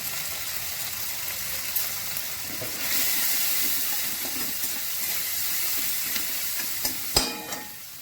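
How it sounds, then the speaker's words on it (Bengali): Onions with salt and turmeric sizzling in a pan, a steady hiss that swells after a few seconds, punctuated by occasional spatula knocks and one louder clank near the end. "পেঁয়াজটা ভাজা হয়ে এসছে"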